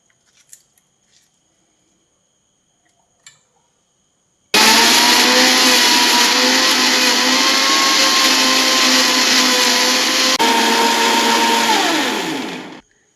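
An electric mixer grinder blends peeled, chopped ripe apple into a smooth paste, starting abruptly after near silence with a loud, steady whirring roar that holds for several seconds, dips briefly in pitch, then winds down.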